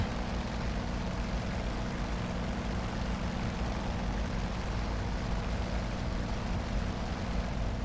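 A propeller aircraft taking off in the DCS flight simulator, its engine a steady, loud, unbroken drone held at constant power throughout.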